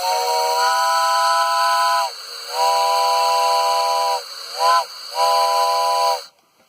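A five-chime steam whistle sounds a chord of several tones in three long blasts and a short toot in between, loud and close over a steady hiss.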